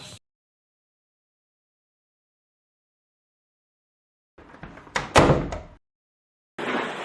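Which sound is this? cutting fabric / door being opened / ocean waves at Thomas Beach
door being opened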